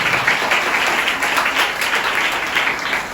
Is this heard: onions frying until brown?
no